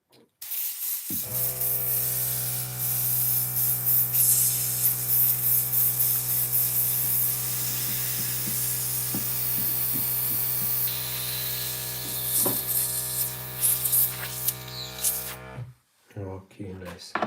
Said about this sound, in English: So turn off our compressor.